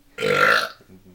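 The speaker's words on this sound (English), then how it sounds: "It's like a 65-year-old would burp." A single loud, throaty human burp lasting about half a second, heard alone and close, then fading into quiet.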